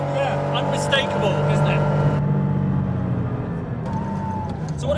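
Porsche 911 engine on 40 Weber carburetors revving and rolling past, a loud snappy motor tone that rises and falls, heard under people talking nearby.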